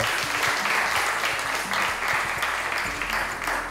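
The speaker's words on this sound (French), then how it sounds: "Merci d'applaudir David et on lui donne un cadeau" Sustained, dense applause from a studio audience on a French television game show fills the whole stretch, loud and close, with no talking over it.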